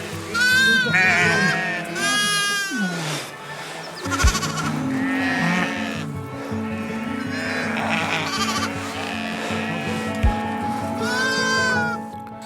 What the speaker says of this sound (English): It looks like a chaotic scene in the village when the goats and sheep return